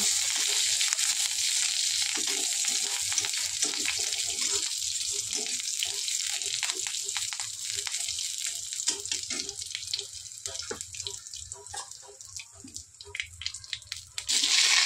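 Potatoes fry in hot oil for a shukto with raw banana, a steady close hiss broken by repeated knocks and scrapes as they are stirred, with clattering growing busier toward the end.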